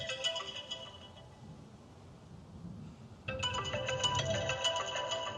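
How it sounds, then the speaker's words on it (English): A phone ringtone for an incoming call, a bright repeating electronic melody that pauses briefly and then resumes louder, close by, with no talking. "Somebody's calling me."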